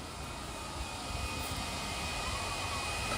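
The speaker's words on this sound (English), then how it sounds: "You guys can see the blower in action." A Yarbo robotic leaf blower clears a parking lot, giving off a steady, fairly faint rushing whoosh of air that holds evenly throughout.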